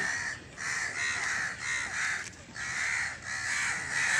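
A crow caws again and again in steady, loud calls, close by, after surviving an electric shock and being kept warm.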